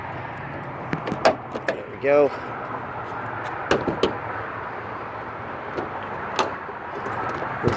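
The manual sliding side doors of a 2020 Ford Transit 350 XLT wheelchair conversion van are rolled open, giving a short rumbling slide followed by a few clunks and rattles, close by, with a brief spoken comment over them.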